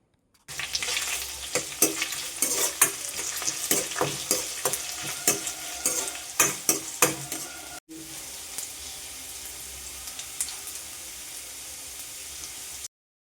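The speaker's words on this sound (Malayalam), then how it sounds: "വെളിച്ചെണ്ണ ചൂടായിട്ട് വരുമ്പോൾ നമ്മൾ നേരത്തെ ഇതിലേക്ക് അരിഞ്ഞു വെച്ചിരുന്ന വെളുത്തുള്ളി കറിവേപ്പില ചെറിയുള്ളി അതെല്ലാം കൂടെ നമുക്ക് ഇതിലേക്ക് ഇട്ട് കൊടുത്തിട്ട് നന്നായിട്ടൊന്ന് മൂപ്പിച്ചെടുക്കാം" Garlic, curry leaves and shallots frying in hot coconut oil for a banana stem thoran, a loud close sizzle with sharp spattering pops for several seconds, a brief cut, then a steadier quieter hiss without pops.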